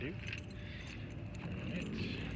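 A set of keys jangles inside a 1974 Volkswagen Karmann Ghia, with a steady metallic rattle running close to the microphone throughout.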